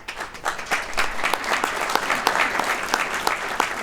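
A campus lecture crowd at UConn breaks into loud applause during a political talk, sharp individual claps standing out in a thick, sustained burst of clapping from many hands.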